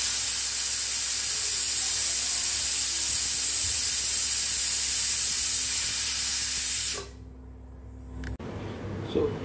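A pressure cooker with paya soup inside vents a long, loud, steady whistling hiss of steam that cuts off sharply, leaving a quieter room with faint clatter.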